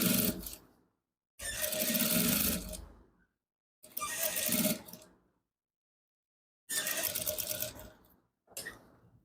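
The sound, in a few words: sewing machine sewing a shirt collar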